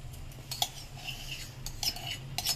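A spoon stirs milk tea in a cup, giving several light clinks against the cup at irregular moments over a low steady background hum, nearby and fairly quiet.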